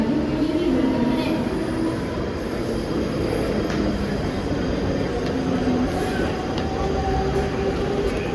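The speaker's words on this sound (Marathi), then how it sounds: "प्लॅटफॉर्म क्रमांक 1 वर आलेली लोकल 4 वाजून 44 मिनिटांची ठाण्याला जाणारी मिनी लोकल आहे." A Mumbai local train pulls in at the Mulund railway station platform. A steady, loud rail rumble with a broad hiss carries evenly through the whole stretch.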